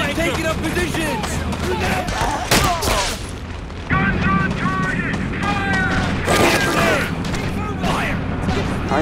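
Gunfire and explosions in the Men of War: Assault Squad 2 Valour mod, set in Tunisia, with heavy booms, rattling bursts and crashes layered close and far, while soldiers' voices shout over the battle.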